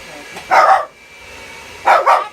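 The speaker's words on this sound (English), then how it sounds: "That's our dog." A pet dog barks twice indoors in a home kitchen during baking, two sharp, loud, close woofs separated by a short pause, each a quick double burst.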